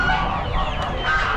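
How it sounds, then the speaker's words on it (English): Hens at an Amish animal auction give short, close clucks over a dense, noisy background, with no clear talking. "And over here we have some pretty hens."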